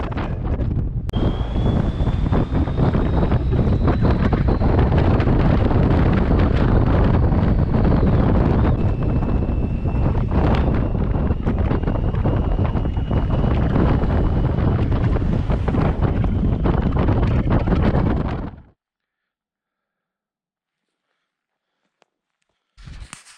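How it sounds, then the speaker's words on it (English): Loud, roaring wind at a scenic overlook on the Million Dollar Highway, Colorado, buffets a GoPro microphone continuously, then cuts abruptly to near silence before a brief burst of noise returns. "It was so windy at this overlook, I had to brace my arm to keep my GoPro from blowing out of my hand."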